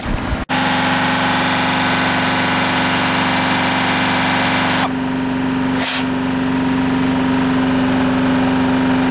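An engine-driven pump moves maple sap at about 100 gallons per hour, its steady droning mechanical hum continuous and loud throughout, with a brief shift in tone partway through.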